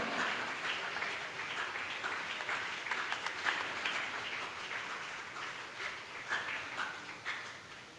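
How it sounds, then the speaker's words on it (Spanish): Congregation applauding the Lord during a church sermon, a moderately faint, continuous crackle of clapping with scattered sharper claps rising and falling. "Dele ese aplauso al Señor, dele ese aplauso al Señor"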